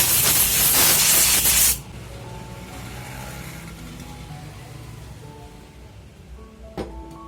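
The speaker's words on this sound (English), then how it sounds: "Use blower to clean the dust particles in the spark plug." An air blower cleaning dust off a motorbike spark plug gives a loud, close blast of rushing air lasting about two seconds before it cuts off. A quieter hum follows, with one short knock near the end.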